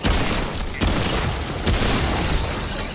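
Enemy gunfire in the video game Remnant II, a dense steady barrage of shots with sharp louder bursts, continuous and fairly close throughout.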